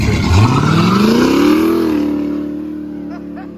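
A sleeper-built Toyota Supra engine revs hard, pitch climbing steeply before holding a loud sustained roar, then easing off and settling toward idle, close and dominant.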